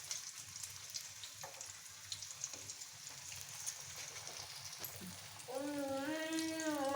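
Food sizzles steadily in hot oil after being flipped in a pan, a continuous crackling fry throughout, with a voice joining at the end.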